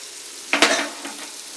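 Onions fry in a pan for egg bhurji, a soft continuous sizzle broken by a brief clatter of a utensil stirring against the pan.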